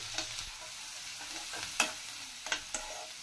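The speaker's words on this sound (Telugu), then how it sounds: "వేసేసుకొని చక్కగా పసుపు సాల్ట్ వేసేసుకొని బాగా ఉల్లిపాయ మగ్గనివ్వాలండి" Onions with green chili, turmeric and salt fry in a pan with a steady, soft sizzle, punctuated by a few light stirring clinks, close and alone.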